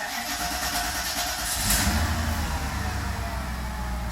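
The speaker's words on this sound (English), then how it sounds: "All right, so the blower motor." Steady mechanical whir of the HVAC blower motor running at low speed in a Mercedes 500E W124, continuous and fairly close, with a low droning hum that swells slightly partway through.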